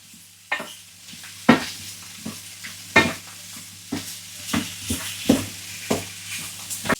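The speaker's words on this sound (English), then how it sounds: "Let that fry for a minute." Potatoes coated in spices fry in a pan with a low, steady sizzle. A spoon scrapes and knocks against the pan in repeated sharp stirring strokes.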